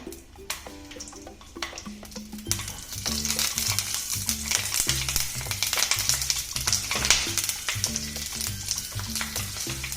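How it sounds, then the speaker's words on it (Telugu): Seven or eight green chillies sizzle in a spoonful of oil in a kadai, a steady frying hiss that swells after the first few seconds and continues under tonal background music. "ఇప్పుడు అదే బాండీలో 1 స్పూను ఆయిల్ వేసుకొని అందులో 7-8 పచ్చిమిర్చి వేసుకోండి"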